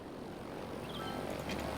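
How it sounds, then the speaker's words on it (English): A small propeller plane taking off in a city-building video game, a steady droning engine hum that swells slightly louder over a couple of seconds, heard alone without talk. "Oh, I hear one of the little planes taking off."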